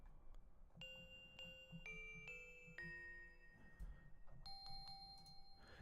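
Synthesized bell-like tones from Fruity Loops ring out in a short sequence of sustained chime notes at shifting pitches, each struck and held, soft and clean over faint background noise.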